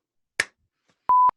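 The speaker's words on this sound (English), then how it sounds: "Okay, and then I'll do a clap." One sharp, close hand clap snaps out in silence to sync podcast audio, followed a moment later by a short steady electronic beep.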